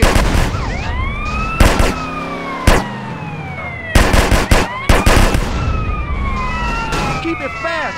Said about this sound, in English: Shooting at the damn blur, CJ.